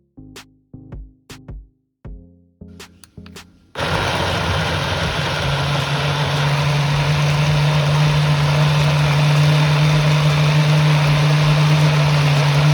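A Blendjet 2 portable blender struggles with fruit and little liquid. It gives several short stuttering pulses, then settles into a loud continuous motor whir with a strong steady hum.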